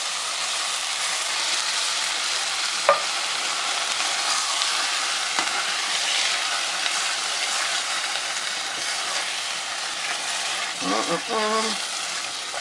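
Tomatoes sizzle and fry in a pan with a constant hissing crackle, a single sharp knock partway through, and a brief murmur of speech near the end.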